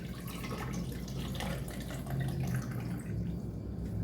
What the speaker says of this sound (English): Then I'm going to pour in enough apple juice